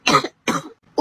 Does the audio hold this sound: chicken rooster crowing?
no